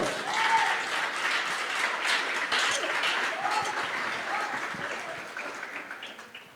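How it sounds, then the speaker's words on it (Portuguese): Church congregation applauding, sustained clapping from many hands in a large room that gradually fades toward the end. "Você pode aplaudir ao Senhor?"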